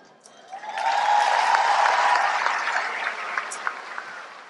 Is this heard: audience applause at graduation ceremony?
yes